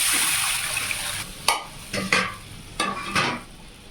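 Water poured into a pan of frying garlic: a soft background sizzle broken by several short splashy bursts, each followed by a brief hiss, close and fairly quiet.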